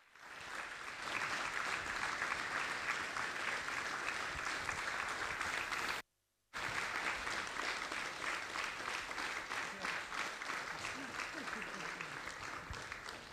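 Sustained audience applause after a live stage performance at an event, dense and steady clapping that fills the room, briefly cut to silence around the middle before resuming just as strongly to the end.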